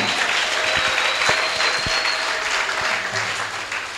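A church congregation applauds to acclaim the king of kings, a dense, steady wash of clapping from many hands, loud and sustained throughout.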